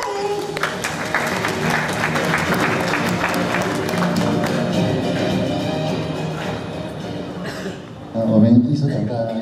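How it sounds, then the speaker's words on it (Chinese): An audience at a sports-event flag-presentation ceremony in Kaohsiung claps steadily, welcoming the deputy mayor, with a voice on a loudspeaker talking over the applause and a louder burst of clapping near the end. "我们掌声欢迎。"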